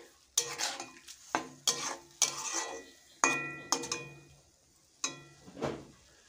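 Carrot laddu mixture with sugar is stirred in a pan, with a series of sharp scraping strokes of a utensil against the pan spaced about a second apart. Light sizzling sits underneath and no one talks.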